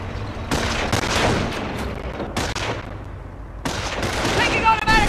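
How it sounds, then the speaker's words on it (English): Rapid automatic gunfire in the Company of Heroes World War II strategy game, dense overlapping bursts of shots with echoing booms, loud and near, pausing briefly before resuming. "Taking automatic fire!"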